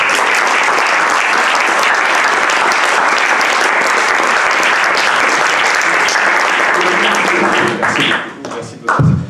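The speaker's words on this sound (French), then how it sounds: "vous allez m'applaudir en entendant" Dense, loud applause from a comedy show audience fills the room continuously, then thins into scattered claps and fades near the end.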